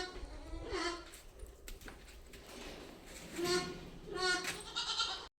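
Goats bleating on a farm, several calls rising at intervals, some close and some farther off, against quiet outdoor background.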